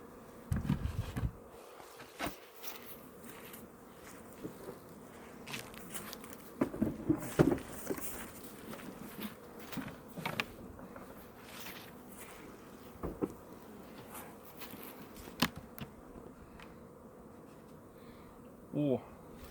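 Honey bees stream out of the hive on their first flight after winter, a faint scattered buzzing with intermittent knocks and handling noises close by, and bits of quiet talk now and then.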